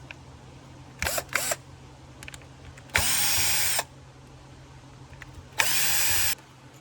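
Screws being backed out of the diaphragm cover on a Honda Foreman 500 ATV carburetor: two short bursts of power-driver whirring close up, each lasting under a second, separated by pauses, with no talk.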